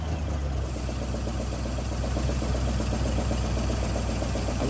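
An Amtex Stack 4047 equipment engine running steadily after a choke start, a loud, even mechanical drone with fast rhythmic pulsing, close by and alone, no talking.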